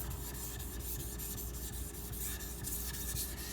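Karaku AS gyuto 210mm knife sharpened on a friable whetstone building mud after a 400 grit stone, a continuous gritty wet rubbing with rhythmic strokes, close and steady.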